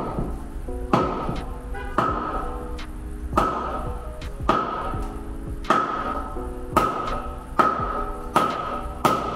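A hammer smacks the faces of an M1 Meister part being stripped, landing a series of sharp, fairly loud metallic strikes at irregular intervals, roughly one to two seconds apart, with ringing tones between hits.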